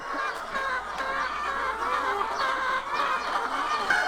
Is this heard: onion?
no